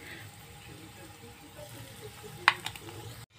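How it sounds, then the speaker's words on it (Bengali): Two large onions frying in oil for chilli gravy, a soft low sizzle close by with a sharp utensil clink near the end. "এটা হালকা 1 মিনিট মতন ভেজে নিয়েছি, ভালো করে ভাজা হয়ে গেছে"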